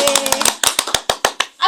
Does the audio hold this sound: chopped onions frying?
no